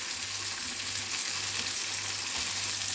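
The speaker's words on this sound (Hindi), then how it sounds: "आप देख सकते हैं तुरई हमारा अच्छे से फ्राई हो गया है।" Slices of ridge gourd fry in oil in a pan over low to medium flame, giving a continuous soft, even sizzle with no talking.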